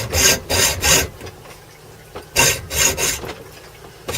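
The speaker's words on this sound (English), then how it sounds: "It's a good hacksaw blade." Hacksaw blade sawing through a stainless steel bolt held in a vise, heard as two bursts of rhythmic rasping strokes, about four quick back-and-forth passes each, separated by a short pause, loud and close with no talking.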